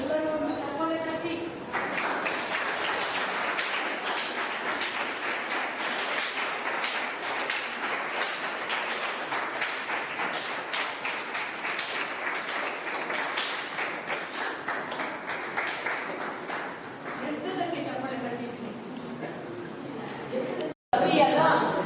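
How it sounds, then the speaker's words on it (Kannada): A gathered audience at a reunion event at White Doves in Mangalore keeps up a steady wash of clapping for about twenty seconds before it cuts off abruptly. "ಎಲ್ಲರೂ ಚಪ್ಪಾಳೆ ತಟ್ಟಿ."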